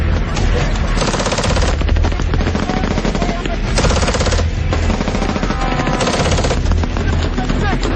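Sustained, loud automatic machine gun fire during desert combat, dense rapid bursts running throughout with heavy booming low end and no pauses.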